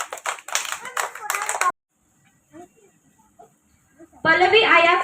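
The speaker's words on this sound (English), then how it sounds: "Clap your hands." Children in a school quiz competition clap their hands in a short, rhythmic burst. A quiet pause follows, and then a voice starts speaking.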